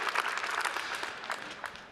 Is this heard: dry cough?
no